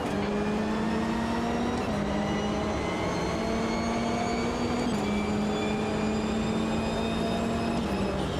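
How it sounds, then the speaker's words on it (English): Race car engine in the sim game Automobilista 2, a loud steady drone with whining harmonics that climbs in pitch through each gear and drops at three shifts, heard alone without talk. "let's try this again with engine noise."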